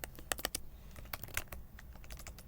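Rapid, uneven keystrokes on a computer keyboard while entering text, with clicks of varying loudness tapping close by and no talking.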